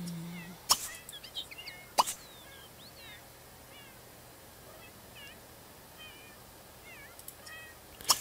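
Cat meowing again and again in The Sims 3 game: short, high, rising-and-falling cries spread across the clip, with a few sharp plop-like clicks and soft background ambience.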